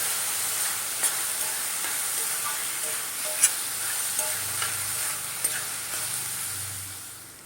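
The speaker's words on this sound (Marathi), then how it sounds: "दोन टोमॅटो बारीक चिरलेले हे पण चांगलं आपण परतून घेऊया" Finely chopped tomatoes sauté with half a spoon of cumin in a pan for paneer bhurji, giving a steady close sizzle and hiss with a few light spatula clicks and no voices.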